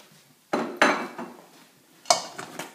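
Roasted garlic going into a pot of cauliflower and baked potato soup, with a few clear metallic clanks and clinks of a utensil against the pot, spaced apart.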